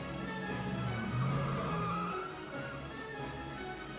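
A Foxbody Mustang spins in a movie scene, with a sustained tire squeal and skid over a rumbling engine, mid-distance and steady, fading slightly toward the end.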